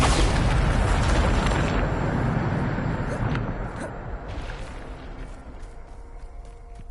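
A Bombarda blasting spell explodes in Hogwarts Legacy, a heavy, close boom with a rumbling roar that fades slowly over several seconds, with faint lingering debris noise.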